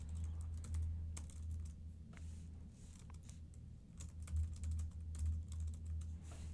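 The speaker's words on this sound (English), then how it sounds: "I'm just going to type something in here." Soft, quick keystrokes on a computer keyboard patter continuously at a moderate pace, close but quiet over a low room hum.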